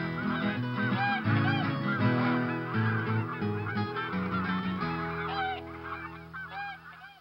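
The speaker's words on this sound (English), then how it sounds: "A gaggle of galloping geese with guitars." A gaggle of geese honks in a Dr Seuss ABC game, a loud, busy cluster of overlapping honks continuing for about seven seconds over a steady tonal background.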